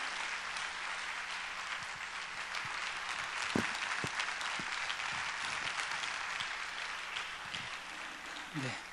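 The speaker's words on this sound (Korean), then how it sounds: "축복의 박수도 함께 쳐주시기 바랍니다" A church congregation at a Wednesday service claps steadily through a farewell sermon, a dense, even wash of many hands that sounds close and continuous with no pauses.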